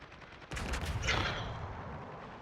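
Single gunshot in the strategy game Viribus Unitis, one sharp loud report followed by a rumbling tail of battle noise, close by, with no voices.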